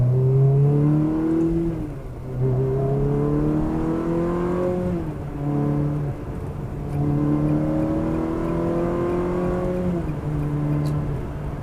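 Ferrari 360 sports car engine heard from inside while driving, a loud steady drone whose pitch climbs through each gear and drops at shifts around two, five and ten seconds, with no talk.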